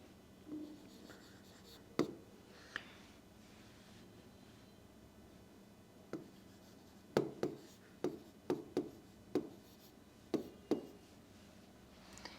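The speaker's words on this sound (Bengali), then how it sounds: "আমি এদিকে লিখতেছি" Handwriting on a board during an Arabic grammar class for Dakhil students, heard alone as soft scratchy strokes punctuated by a series of sharp taps and knocks, several clustered closely toward the end, fairly close and quiet.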